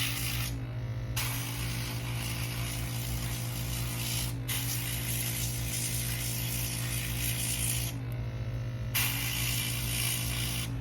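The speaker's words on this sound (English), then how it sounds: "really get that airbrush in there" An airbrush hisses steadily while spraying paint onto a custom G.I. Joe Classified Dreadnok figure, a loud continuous spray broken by three brief pauses, with a low motor hum running underneath.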